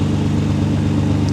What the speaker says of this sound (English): Now we just heard the engine increase.